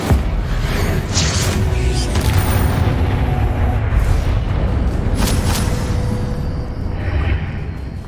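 Booming fire-spell blasts from Hogwarts Legacy, dense and loud throughout, with bursts of flame swelling near 2, 5.5 and 7 seconds over a constant rumbling game backdrop.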